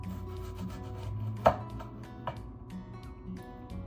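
A knife chops through Rice Krispies treats into little pieces on a board, with one sharp cut standing out and a softer cut later, over quiet kitchen background.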